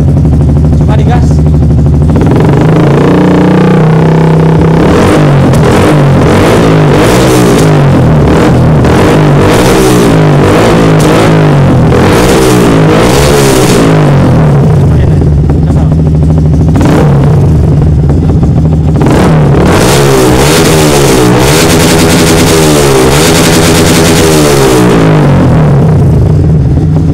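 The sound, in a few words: Yamaha R15 motorcycle engine revving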